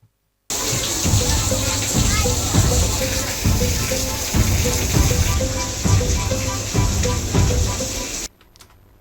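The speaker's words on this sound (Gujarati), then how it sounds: "ટ્રેનની બોગીમાં પાણી લીકેજ થતા" Water leaks and splashes steadily inside a MEMU train coach, a continuous loud running and dripping wash with rhythmic rattling beneath it that stops abruptly near the end.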